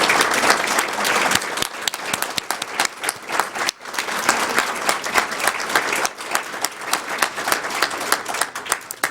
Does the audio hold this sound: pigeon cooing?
no